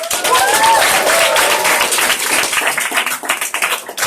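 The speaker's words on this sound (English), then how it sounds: "so everybody give yourselves a round of applause" Loud, dense applause from a large audience at an improv comedy show, steady clapping that fills the space and slowly thins toward the end.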